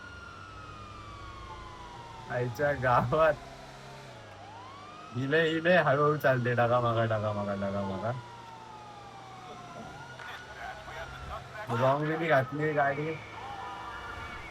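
Stolen police car in a video game chase, its wailing siren sweeping steadily up and down in the background. A player talks excitedly in loud bursts over it.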